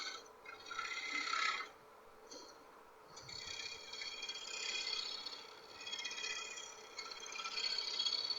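Woodturning tool scraping and refining a small curve on a rock maple hollow form, a steady close rasping rub in bursts with short pauses, no talk.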